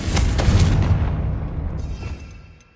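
A fiery Confringo spell explosion in the video game Hogwarts Legacy lands as one deep, heavy boom. It rolls out and slowly fades over a couple of seconds.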